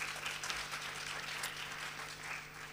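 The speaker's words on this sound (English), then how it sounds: "A round of applause for him, please." Brief round of applause from a summit audience for a speaker on a creative-arts panel, soft and even, with a steady background hum underneath.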